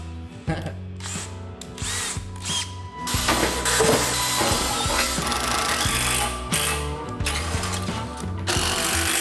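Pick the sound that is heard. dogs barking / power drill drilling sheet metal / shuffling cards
power drill drilling sheet metal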